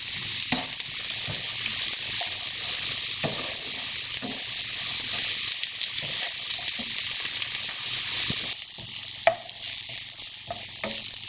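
Onions sautéing in a pan until soft and translucent, a steady close sizzle with scattered clinks and scrapes of stirring throughout, no voices.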